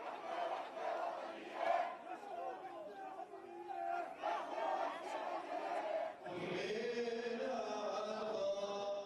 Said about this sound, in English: Crowds filling the small streets of this ancient city.